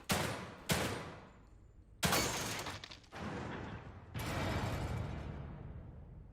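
Gunshots ring out while shooting targets in The Evil Within 2, about five sharp, close reports spaced unevenly, each followed by a short echoing decay.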